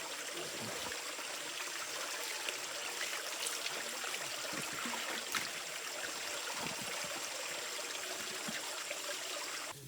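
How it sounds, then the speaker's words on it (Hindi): Water from a jungle stream runs and trickles steadily while shoes are washed in it, with a continuous broad rushing wash and occasional faint splashes, close by and with no talking. "मैंने सोचा यार क्यों ना मैं मेरे शूज यहाँ पे धो ही लेता हूँ। पानी आ रहा है अच्छा खासा"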